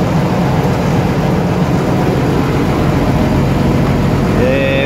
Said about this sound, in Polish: Ładnie chodzi silniczek. Pięknie chodzi.